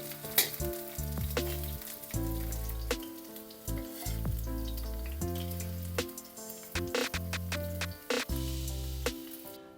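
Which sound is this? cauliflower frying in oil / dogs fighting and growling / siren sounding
cauliflower frying in oil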